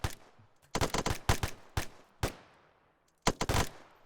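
Rapid rifle fire on a range during platoon convoy training, with several sharp, fairly close shots in quick succession, a short gap, and then a final pair of shots.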